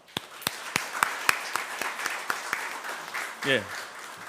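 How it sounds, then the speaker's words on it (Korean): A church congregation claps during a Sunday worship service, sparse separate hand claps rather than a dense roar, with someone speaking briefly partway through. "격려의 박수 하겠습니다"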